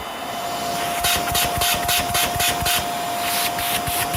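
A Hoover Air upright vacuum cleaner with a destroyed brush roll runs steadily nearby, a loud constant motor whine with a sharp tonal hum and pulsing airflow rushes.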